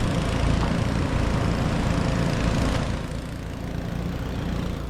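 Engines rumble loudly and steadily as motorbikes roll past nearby on a bridge, the roar easing slightly partway through but never stopping.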